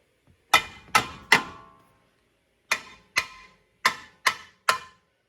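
Eight sharp metallic hammer blows on a 2010 GMC Acadia lower control arm with ball joint during fitting, three quick strikes, a pause, then five more, each ringing briefly and loud and close with no talk.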